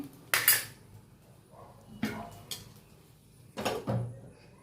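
A metal lid set onto a pan of frying oil with green chillies, giving a few sharp clanks and rattles spaced across a few seconds, with a quiet kitchen background between them.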